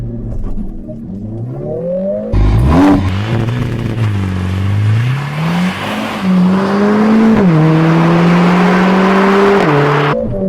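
A Mercedes-AMG A 45 S, 421 hp, roars loudly as it accelerates hard, pitch climbing through several gears with brief drops at each shift.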